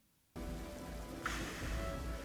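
Steady rain falls in the opening scene of Andor episode 1, a dense continuous hiss that starts abruptly after a brief near-silent moment and holds evenly, with a soft brighter swell partway through.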